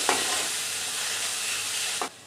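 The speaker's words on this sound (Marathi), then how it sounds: "सुखे मसाले असे मंद गॅसवर थोडेसे फ्राय करून घ्यायचे" Dry spices fry over a low gas flame in a pan for prawn rice, giving a steady, close hiss of sizzling that holds evenly before cutting off abruptly near the end.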